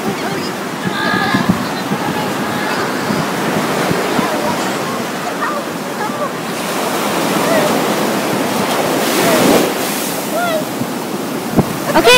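Waves wash onto an ocean beach in a steady rushing surge, rising and falling, while voices of adults and a child are heard over the surf along with wind noise.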